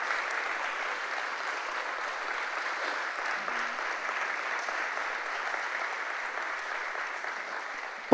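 A church congregation applauds during a Spanish-language sermon, a dense, even wash of clapping sustained from start to finish without speech.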